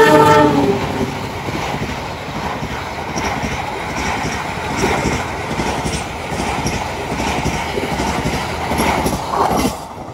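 A passenger train arrives at Cirebon station in Indonesia. A horn blast opens, then the rumble and clatter of the wheels rolls on steadily and close, with a faint squeal from the wheels near the end.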